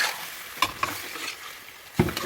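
Potato and pointed gourd tipped into spice paste frying in a small kadai, giving a steady sizzle with a few sharp stirring knocks and scrapes.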